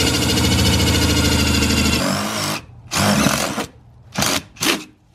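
A power drill bores a hole through the side of a house, running loud and steady for about two seconds, then pausing and giving several shorter bursts.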